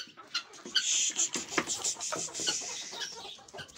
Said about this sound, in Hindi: एक मुर्गा एक मुर्गी है